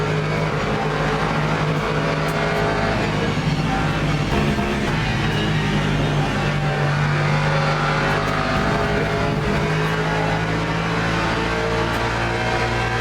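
A McLaren race car in the Le Mans Ultimate racing game roars past with a steady, loud engine drone that rises and falls slightly as it passes, continuous for the whole stretch without any talk.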